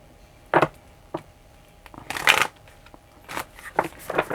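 Tarot cards being shuffled in a few brief, crisp bursts with pauses between them, close and fairly quiet, no talking.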